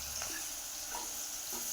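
Onion and bay leaf fry in a pan with a soft, steady sizzle and hiss, broken by a few faint scrapes of stirring, quiet and close with no voices.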